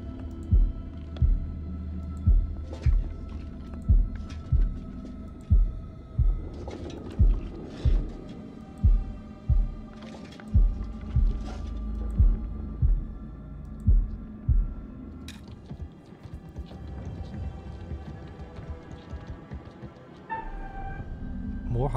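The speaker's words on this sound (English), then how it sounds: "Here we go, the heartbeat thing." Heartbeat effect in the video game House of Ashes: a steady, regular double-thump pulse beats for most of the stretch, low and prominent, then fades into ambient drone and scattered sounds while people talk.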